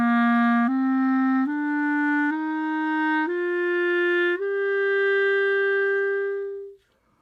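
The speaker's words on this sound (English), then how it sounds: "If we do the whole scale up to that point, here's what it sounds like." A clarinet plays a slow ascending scale from low C up to A, each note held about a second in clean stepwise succession, the final note sustained longest before fading, with no voices.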